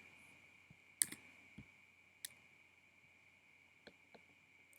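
Sparse computer mouse clicks on a quiet desk, a sharp double click near the start followed by several scattered single clicks, close and crisp over a faint steady background hum.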